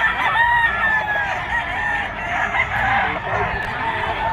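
Hatch Gray gamefowl roosters crow and cluck at a busy pet market, several calls overlapping at mid distance against a steady murmur of background crowd noise.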